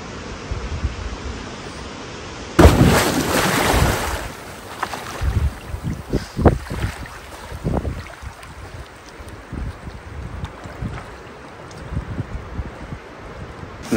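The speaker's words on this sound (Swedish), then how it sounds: "Det blåste massa." Strong gusting wind buffets outdoors, rumbling and roaring in uneven bursts with whooshing peaks and constant low turbulence.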